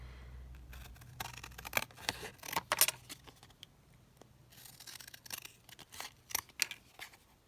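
Scissors snip through paper while cutting out a butterfly shape: a close, uneven run of crisp clicks and short cuts with brief pauses between them, and no voices.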